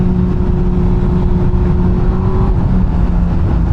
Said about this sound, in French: sortie de virage, gaz en grand